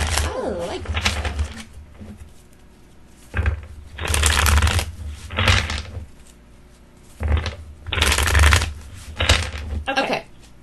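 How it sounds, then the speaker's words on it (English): Tarot cards being shuffled in repeated bursts of riffling and rustling, loud and close, with short pauses between each round of shuffling and no talking. "I got caught up in the shuffling"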